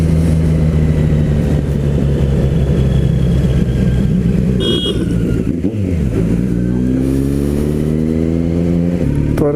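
A Kawasaki Z900 motorcycle engine drones loudly and steadily while riding on a sunny day, with wind rush throughout and a dip then rising revs as the rider shifts and accelerates.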